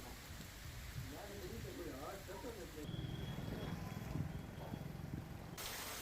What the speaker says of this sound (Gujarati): જોરદાર પવન સાથે વરસાદની ધમાકેદાર એન્ટ્રી થઈ